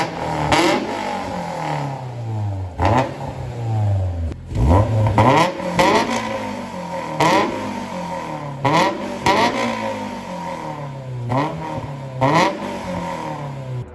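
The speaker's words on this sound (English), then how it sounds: "Now we're gonna do a test start, see how she sounds." A Honda S2000 engine with a new Invidia exhaust cranks and revs repeatedly, rising and falling in loud bursts with a throaty exhaust note, close by and with no talking.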